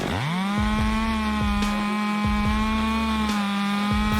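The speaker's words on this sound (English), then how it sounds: "STIHL chainsaws like the lightweight MS261 are popular in France." A STIHL chainsaw, such as the lightweight MS261, is felling a tree in a French forest, revving up and holding a loud, steady, close-up whine, with rhythmic bogging dips as the chain bites into the wood.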